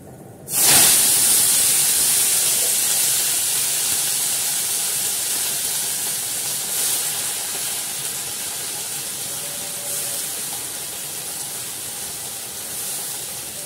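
Leafy greens dropped into hot mustard oil tempered with nigella seeds burst into a loud sudden sizzle, then settle into a steady hissing fry that slowly fades, close and alone without speech.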